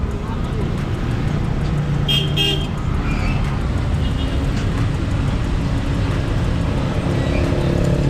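Busy taxi-stand traffic with car engines and a few short horn toots over a dense roadway rumble, while people talk nearby.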